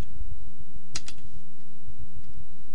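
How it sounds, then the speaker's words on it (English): Close clicks of keys on a computer keyboard as an IP address is typed, a quick cluster of taps followed by lighter scattered clicks over a steady low hum. "You're just going to type in the IP address"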